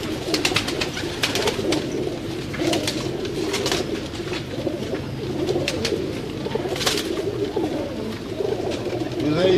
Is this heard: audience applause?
no